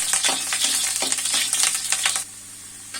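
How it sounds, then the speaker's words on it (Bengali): Potatoes fry in hot oil for a vegetarian jackfruit curry with a loud, dense sizzle and crackle. The sizzle suddenly drops to a quiet hiss near the end. "তেল গরম হয়েছে, আলুগুলো ভেজে নিব"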